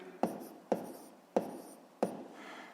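A pen strikes paper four times at roughly even intervals while working a maths exercise, each a crisp tap with a short scratchy tail, close and quiet.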